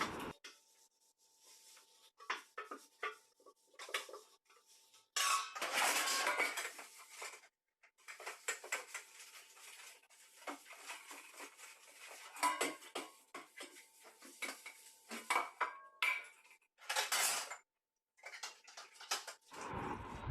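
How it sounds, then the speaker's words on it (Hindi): Dishes, pots and utensils being washed in a sink, with irregular clinks, clatters and scrapes of metal and crockery. Bursts of running water and rinsing come and go, all close by. "तो चलिए फटाफट बर्तन धो लेती हूँ"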